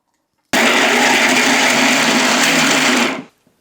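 A kitchen mixer grinder grinding ginger, garlic and coriander for onion-garlic masala, a sudden loud, steady whirring roar that starts abruptly, holds for under three seconds, then winds down and stops, with no talking.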